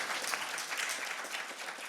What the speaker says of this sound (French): Quelques applaudissements avant peut-être d'autres tout à l'heure